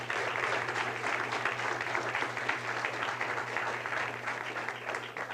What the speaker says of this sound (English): So, ladies and gentlemen, a big round of applause for our great mayor, Mayor Marty Walsh.